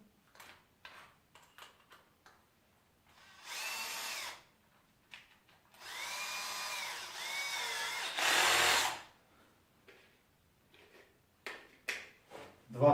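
Power drill with a Phillips bit driving wood screws into hard acacia wood: three close whirring bursts of a few seconds each, the last one louder, separated by clicks and handling noises.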